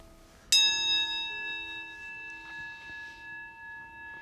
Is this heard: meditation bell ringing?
yes